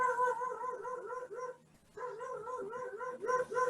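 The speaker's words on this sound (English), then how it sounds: "in light of the barking dog" A dog barks repeatedly in quick yapping runs, fairly faint and in the background, with a short pause midway before the barking resumes.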